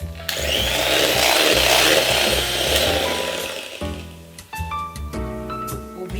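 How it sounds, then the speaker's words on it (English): Butter and cream cheese whisked together for frosting with a hand mixer, a loud steady motor whir for most of the span, then breaking into short start-stop bursts near the end. "Whisk the butter and cream cheese for 1 minute more."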